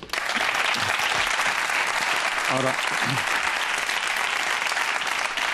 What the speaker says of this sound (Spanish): aplauso para Marina